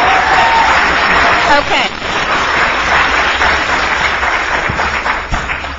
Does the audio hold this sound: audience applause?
yes